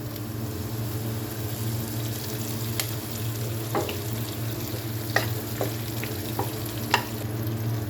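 Curry leaves dropped into hot oil for a spicy puffed-rice snack give off a steady sizzle and frying crackle, with a few sharp pops and spoon scrapes scattered through the continuous bubbling.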